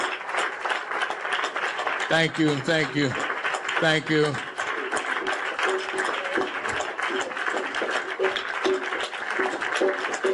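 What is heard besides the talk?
audience applause for a speaker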